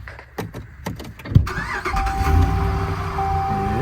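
An engine turns over with a few rhythmic cranking chugs, then catches and settles into a steady, fairly loud running drone on a rural property, with no talking over it.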